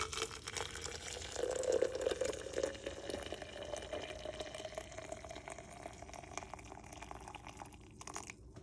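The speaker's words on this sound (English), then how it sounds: "I'm going to pour my hot water into my fill line" Hot water poured steadily into a tea press, a continuous liquid filling sound that swells early then thins out as the press fills, heard alone at close range.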